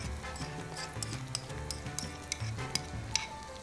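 Onions frying and softening in a pan give a continuous close sizzle, with scattered clicks and small pops of spoon or pan contact.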